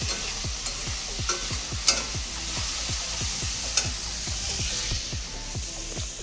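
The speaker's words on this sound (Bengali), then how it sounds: "দাঁড়াও ভাজাটা একটু নেড়ে দিই।" Potato and pointed gourd frying in a pan while being stirred, a steady sizzle under repeated scraping strokes of the spatula in an even rhythm, close and fairly quiet with no talking.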